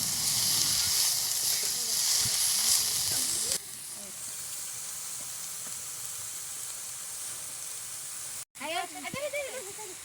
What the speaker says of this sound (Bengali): শাক ভাজা প্রায় হয়ে গেছে, চুলার আঁচেই বাকিটা হবে